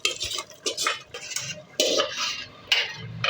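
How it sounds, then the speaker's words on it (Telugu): A utensil scrapes and clatters in a pot as chicken and rice are mixed for biryani, with irregular close stirring strokes and metallic knocks and no talking. "ఇలా చికెన్ వేసుకున్న తర్వాత బాగా మిక్స్ చేసుకోవాలి."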